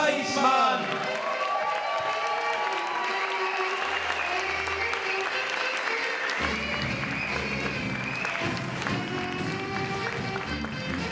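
A poetry slam audience in a bar applauds loudly and continuously at a jazz poetry event, a dense wash of clapping with scattered cheers that holds steady throughout.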